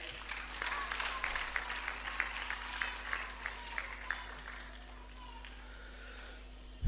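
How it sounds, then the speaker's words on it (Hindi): An audience at a talent hunt program at the Arts Council in Karachi applauds to welcome a speaker: a dense run of claps that stays strong, then thins and fades toward the end. "आपकी भरपूर तालियों में इस्तकबाल कीजिएगा हशाम इस्माइल"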